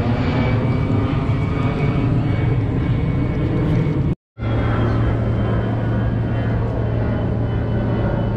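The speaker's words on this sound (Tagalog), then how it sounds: "Daan na aeroplano." An airplane passes overhead near a reclamation area by the bay, a loud, sustained engine roar and rumble with a steady low drone, briefly cut off midway, with no talking.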